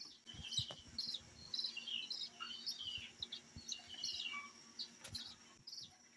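Small cockatiels in a cage give faint, scattered high chirps and tweets over a low background of light tapping and rustling, with no talking.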